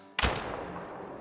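A single rifle gunshot goes off in the Call of the Wild hunting game during a buckshot fox hunt in Scotland, a sharp loud crack followed by a rolling, fading echo.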